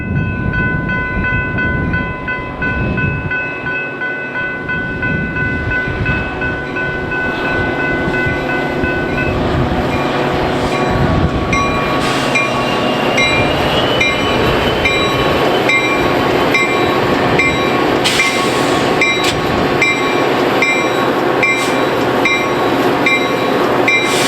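Metra commuter trains led by rebuilt F40PHM-3 locomotives pass one after another on a busy BNSF rail corridor at rush hour, a loud continuous rumble with rolling wheel noise and occasional squeal, close and sustained with no talk.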